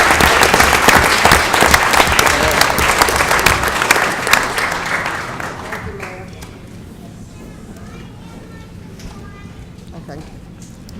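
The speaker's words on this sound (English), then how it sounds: "please put your hands together and clap for every one of them." At a Linden city council meeting, the audience gives children a loud round of clapping that dies away after about five seconds, followed by softer room noise and people talking.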